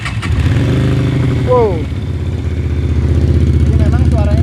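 A Keeway V250 FI motorcycle engine fires up and settles into a deep, loud, throbbing idle with a steady pulsing rhythm close by, while people speak over it with a brief exclamation.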